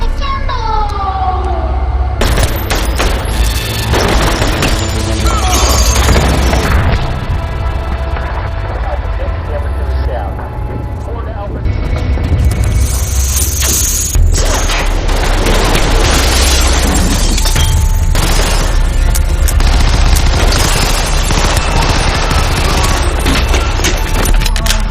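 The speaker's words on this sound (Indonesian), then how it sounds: "Adegan baku tembak yang seru, guys, di mana mereka saling memburu." Gunfight scene from the action film Kate: loud, dense bursts of gunfire and booms layered with sirens, mechanical clatter and an intense score, continuous and close throughout.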